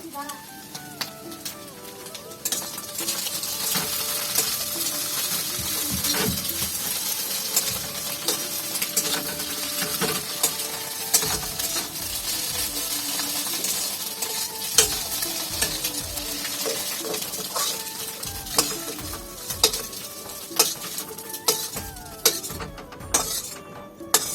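Chow mein being stir-fried in a pan at home, a continuous sizzle with repeated scraping and clattering of a utensil against the pan, growing sharper and more clipped toward the end, with occasional talk.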